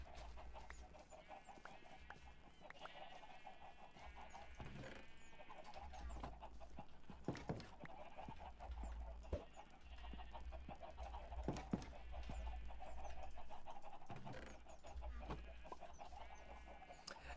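Chickens cluck faintly and intermittently in the Minecraft video game, with a few scattered game clicks and no speech over them.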